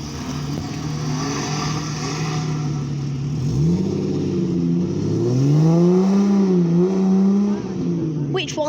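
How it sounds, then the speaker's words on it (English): A Porsche 718 Boxster convertible pulls away from a car meet, followed by a TVR Chimera, their engines revving up loudly and close by with rising and falling engine notes. "Here we have one of the Porsches departing the show. That's a 718 box dress convertible. Followed by a TVR Chimera,"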